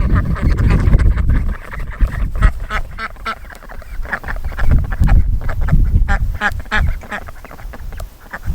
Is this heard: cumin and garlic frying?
no